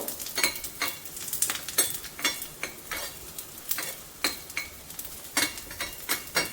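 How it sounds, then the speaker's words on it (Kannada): Garlic pieces fry in ghee in a pan for Udupi-style garlic thambuli, a steady sizzle broken by a regular run of spoon-stirring scrapes and clinks, with no voices. "ಈಗ ಅದೇ ತುಪ್ಪಕ್ಕೆ ಬೆಳ್ಳುಳ್ಳಿನ ಏನು ಪೀಸ್ ಮಾಡಿ ಇಟ್ಕೊಂಡಿದ್ದೀನಿ ಅದನ್ನು ಸ್ವಲ್ಪ ಕೆಂಪು ಹುರಿಯೋದು ಬೇಡ"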